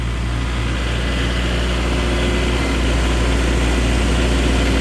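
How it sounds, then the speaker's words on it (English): A 2008 Moffett M55.4 truck-mounted forklift, rebuilt in 2017, runs its engine at a steady idle with a constant low drone and hydraulic hum while the mast raises and lowers. "Now here's your mast going up and down."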